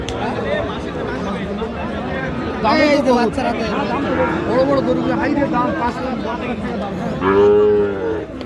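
Cattle at a busy livestock market selling Sahiwal bull calves, with repeated loud moos rising over constant crowd chatter and people talking nearby.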